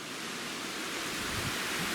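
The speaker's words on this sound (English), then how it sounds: "And we are right by the creek. So, water and a nice peaceful white noise generator." Steady broadband rush of creek water flowing beside a forest backpacking campsite near Seneca Creek and Spruce Knob, a constant close wash like white noise with no voices.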